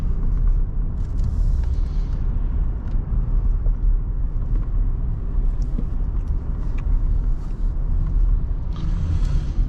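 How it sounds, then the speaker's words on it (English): A car driving along a road, giving a steady, loud engine and tyre rumble with occasional creaks and mechanical rattles throughout, with no talking. "It's just good to be driving around."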